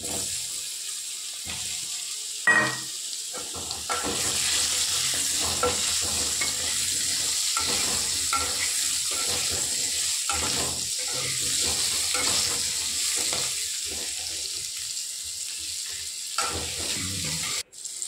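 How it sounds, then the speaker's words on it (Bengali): Sliced potatoes sizzle loudly in hot oil in a wok, a constant frying hiss broken by the repeated scrape and clatter of a spatula stirring them, with no talking. "এবার কড়াইতে আলু দিয়ে দিয়েছি, আলুগুলো সুন্দর করে ভাজবো।"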